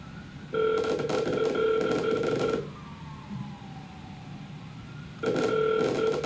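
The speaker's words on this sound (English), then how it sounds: "Tell me if you guys can hear the phone ringing when it starts ringing here." Ringback tone of an outgoing phone call: two steady, loud bursts of ringing, one at the start and another after a quiet gap near the end, with faint line hiss between.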